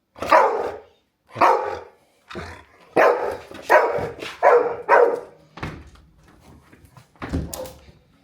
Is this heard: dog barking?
yes